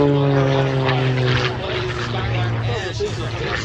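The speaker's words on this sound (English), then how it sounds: "Slowly descending towards the ground as she spins the airplane around." A propeller-driven aerobatic airplane spinning and diving at an Abbotsford airshow in Canada, its engine droning and shifting in pitch from a distance while an announcer talks over it.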